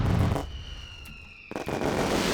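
Fireworks go off in Kerbal Space Program after the rocket engine sound cuts out. A crackling rush fades, then a thin whistle follows and another burst of crackle. There are no voices.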